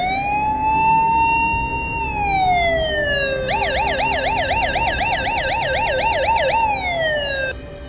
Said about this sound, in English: I was startled by the sound of the siren of the police van.